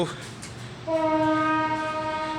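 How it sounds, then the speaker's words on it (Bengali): Near an overbridge, rumbling rail noise gives way to a loud, sustained train horn blaring close by as the train approaches. "সামনে একটা ট্রেন ট্রেন আসছে"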